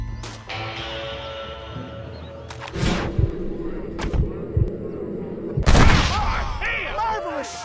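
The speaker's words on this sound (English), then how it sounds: "Marvelous shot, dear boy." Gunshots ring out in Red Dead Redemption, several sharp loud cracks spread over a few seconds, each booming with a short echo over a low ambient bed of wind and distant birds.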